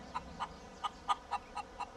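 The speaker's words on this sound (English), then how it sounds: "Got my chicken, Zachary?" A chicken clucks close by in a series of about seven short, evenly spaced clucks, moderately loud over a faint background.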